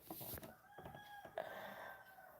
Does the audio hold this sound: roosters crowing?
yes